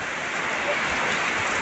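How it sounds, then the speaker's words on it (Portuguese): Heavy rain pours down steadily, a dense continuous hiss of drops with no pauses, close and fairly loud. "Olha que maravilha de chuva."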